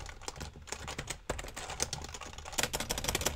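Fast typing on a Pro Hybrid computer keyboard, a dense run of close, crisp key clicks that briefly pauses and then resumes even quicker, with no talking.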